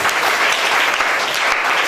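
A church congregation applauds loudly and steadily, a dense wash of many hands clapping close by for the whole moment with no break.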